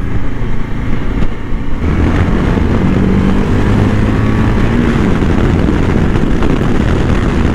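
A Voge 650 DSX single-cylinder motorcycle pulls from low revs in first gear. Its loud, continuous engine rumble is close by and steady, with no speech.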